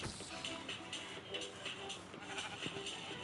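A sheep bleats a few times in Minecraft amid shuffling and background game sounds, fairly close and moderately loud.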